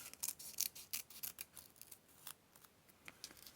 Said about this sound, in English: What would it look like if I cut a leaf in half?